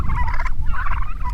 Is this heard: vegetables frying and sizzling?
no